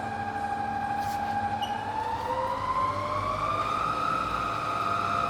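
A Bridgeport milling machine runs in reverse in the low range at about 350 RPM, a steady mechanical hum with a tone that slowly rises in pitch, moderately loud and continuous with no talking.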